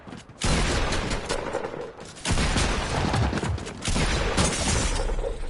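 Rapid bursts of automatic gunfire in the video game Fortnite, three loud sustained volleys separated by short gaps, with no talking.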